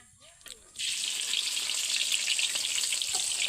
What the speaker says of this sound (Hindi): मेरा तेल गरम हो चुका है, ये मैं डाल दिया प्याज को